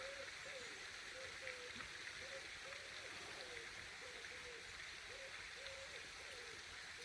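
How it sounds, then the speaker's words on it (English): A fountain's water splashes gently and continuously nearby, a soft steady wash of trickling with faint wavering tones drifting over it, heard without talk. "the fountain that is next to me, the water gently splashing"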